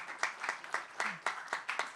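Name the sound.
audience applause for PubKey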